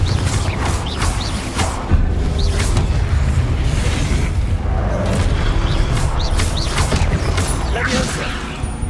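A blasting spell erupts in the Hogwarts Legacy game amid dense combat, heavy booms and crashes with whooshing effects layered over a low rumbling score, while a voice talks over the action.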